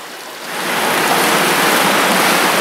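Water pours from a deep tank behind a sluice gate into an underground sewer chamber, a steady broadband rushing roar that swells up in the first half second and then holds loud and constant.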